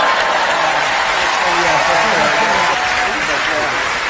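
Applause for a speech by someone, a steady wash of clapping from a large audience sustained throughout, with a voice speaking over it.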